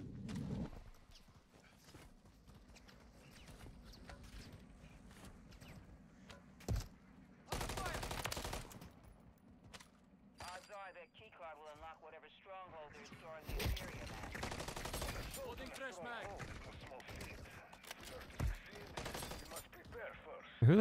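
Gunfire in Call of Duty Modern Warfare III zombies mode: scattered shots and bursts around loud game music, effects and voices, with heavy broadband blasts near the middle and toward the end.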